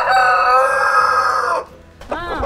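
Chickens at a farm coop, one rooster crowing loudly and close for over a second, then a short pause before more crowing and clucking bursts.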